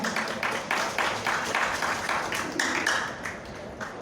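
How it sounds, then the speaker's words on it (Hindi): An indoor audience at a BJP workshop claps steadily and loudly, a dense rhythmic applause lasting several seconds before tapering off. "आप सभी से निवेदन है कि एक बार जोरदार तालियों के साथ"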